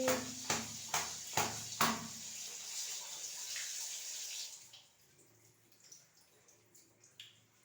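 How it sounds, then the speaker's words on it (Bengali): Clothes being washed by hand slosh and splash in water with several rhythmic sharp slaps early on, then settling into softer trickling and dripping nearby, without speech. "তো আমি এখন কাপড় ধুয়ে দিচ্ছি। কাপড় ধুতেছি।"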